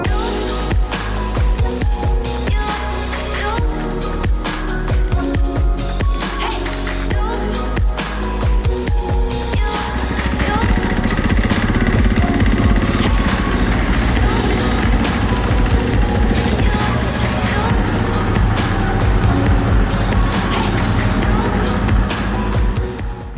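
Enduro motorcycles, both two-stroke and four-stroke, are wheeled out and started in a garage, with clattering handling noise giving way to a steady loud engine drone that runs continuously through the second half.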